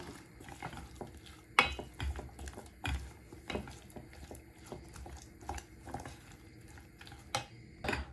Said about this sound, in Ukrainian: щоб була однорідна маса, щоб і вершки перемішалися разом з шоколадом